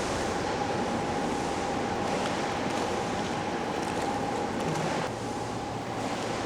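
Wave generator in a test tank sending waves equivalent to 1.5 m against a model boat, a constant rushing water wash with a faint steady hum underneath, unbroken and close.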